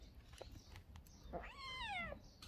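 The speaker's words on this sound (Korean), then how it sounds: "이 고양이 이거" A cat gives a single clear meow with a rising then falling pitch, close and fairly loud, after a few faint knocks and rustles in the background.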